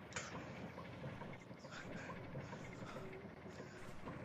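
A train rolling along in the VR game Gorilla Tag, a continuous rumbling run with faint clattering on the rails and a brief sharp accent near the start, no speech.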